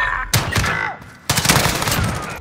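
Rapid automatic gunfire rattles in a Search and Destroy match of Modern Warfare, two loud close bursts separated by a brief lull, with sharp cracking reports.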